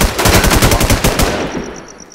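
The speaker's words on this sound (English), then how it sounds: "A lot of gunfire." Heavy automatic gunfire in the survival video game The War Z, a rapid burst of loud, close shots lasting over a second before fading into a faint ringing tail.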